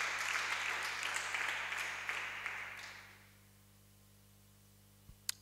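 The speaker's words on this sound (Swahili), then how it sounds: "Hebu tumpe Yesu makofi mazuri kabisa" A church congregation applauds in praise of Jesus during a sermon: a steady wash of clapping from many hands that fades out after about three seconds, leaving a quiet room with a low hum and a sharp knock near the end.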